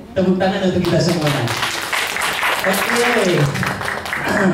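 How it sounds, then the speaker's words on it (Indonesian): A seminar audience breaks into sustained applause, a dense wash of clapping that holds for several seconds while voices and tonal sounds carry over it. "Baik, tepuk tangan untuk kita semua."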